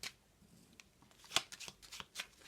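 Tarot cards being shuffled before a three-card draw, a quick run of crisp riffling flicks and soft slaps of card edges, close and fairly quiet, with no voice over it.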